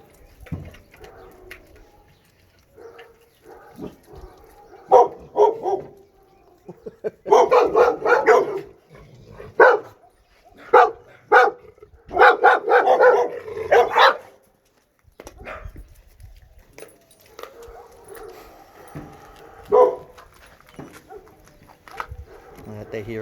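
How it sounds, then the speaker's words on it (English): A Rottweiler-Labrador mix and a Yorkie mix bark in bursts, loud clustered woofs and yips close by, separated by quieter stretches where a person talks and birds chirp faintly. "if they hear the other dogs in the neighborhood barking"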